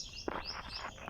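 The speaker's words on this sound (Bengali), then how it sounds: "এখানে ভিতরে ছোট পাখি আছে" Small birds tweet near their nests in trees, giving a string of short, bright chirps and rising calls that stand out clearly over a soft outdoor background.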